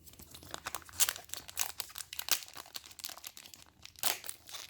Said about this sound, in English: These things actually rip pretty easily